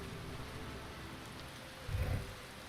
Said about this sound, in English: You can see the rains are coming now.